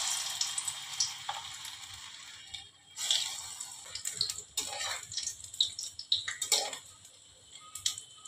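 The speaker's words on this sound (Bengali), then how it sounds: "আমি সর্ষের তেল গরম করতে দিয়েছি। এই যে আমি এখন কোপ্তাগুলোকে ছেড়ে দেব।" Soybean koftas frying in hot mustard oil, a quiet sizzle punctuated by several sharp crackling bursts and spits at irregular intervals, close up with no voices.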